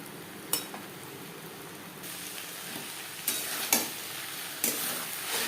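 Okra frying in a pan for a vegetarian bhindi dish with no garlic, onion or spices, a steady sizzle broken by several sharp scraping stirs of the spatula.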